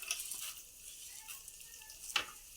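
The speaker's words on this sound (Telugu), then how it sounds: "ఈ రెండు కూడా చక్కగా వేయించుకోవాలి. అది ఆయిల్లో ఇట్లా చక్కగా వేగాలి" Urad dal and chana dal frying in oil in a kadai, a soft steady high sizzle close by with a few faint stirring scrapes and one sharper clink near the end.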